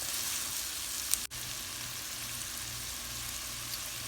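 Onions and carrots sizzle and fry steadily in a soup pot, a soft even crackle throughout with one brief clunk of stirring near the start.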